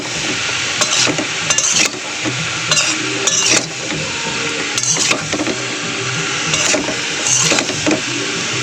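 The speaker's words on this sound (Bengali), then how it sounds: "সবজিটা ভাজা ভাজা হয়ে গেছে মশলার সঙ্গে।" Vegetables frying in a pan with turmeric and salt, a steady sizzle broken by repeated scraping stirs every second or so, close and fairly loud with no voices.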